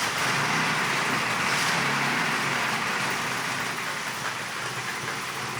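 A Maserati engine running after start-up, a dense, steady roar that stays loud and even, with a slight easing toward the end and no voices over it.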